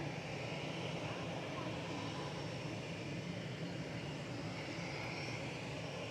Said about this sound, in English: Go for the BA landing.